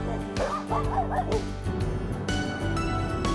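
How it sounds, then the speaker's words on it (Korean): Several small dogs yip and bark excitedly in quick bursts on a fish-farm embankment in a Ha Long island village, with whiny, high-pitched barks close by over a steady background hum. "마을에 들어서니 양식장 뚝을 마당 삼은 강아지들이 격렬하게 환영을 해준다"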